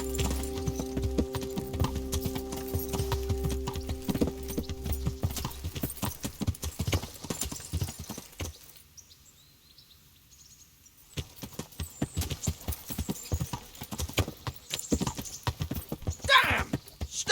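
Horse hooves clip-clop in a steady rhythm in a medieval video game, fairly close and moderately loud, briefly dropping away before resuming amid other game sounds.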